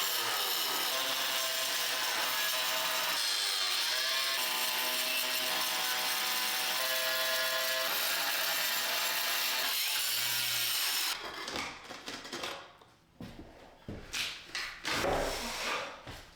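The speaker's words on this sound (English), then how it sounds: "Pieces that we cut with the angle grinder" An angle grinder cuts through bathroom tile, a loud steady abrasive whine for about eleven seconds that then stops, followed by quieter uneven scraping and handling noises.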